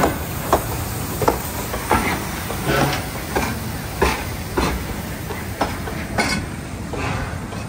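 A wooden roller coaster train at Kings Island passing near the Mystic Timbers entrance, with repeated rattling clacks at a steady rhythm over a continuous roar and hiss, fairly loud and close, with no talking.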